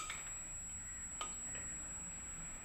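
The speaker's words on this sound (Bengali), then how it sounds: "শুকনো লঙ্কা আর হিং অল্প, আমি আগে দিয়ে নেব তেলের মধ্যে।" Dried red chilli and asafoetida crackle and sizzle in hot oil for aloo dum, a steady close fizzing hiss with a few sharp pops and faint stirring clicks, with no talking.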